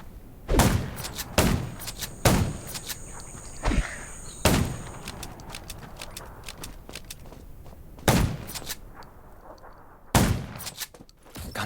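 Gunshots fired at zombies in the mobile video game Undawn: several loud, sharp single reports spaced irregularly a second or two apart, with quieter game ambience between them.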